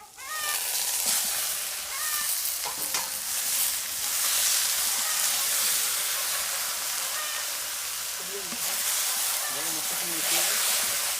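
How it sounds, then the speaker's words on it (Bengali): Chicken meat added to fried spices sizzles in a pan with a steady, loud hiss for the whole stretch while a person talks over it, in a village-style chicken cooking setting. "মশলা কষানো হয়ে গেছে মাংসটা দিয়ে দিচ্ছি"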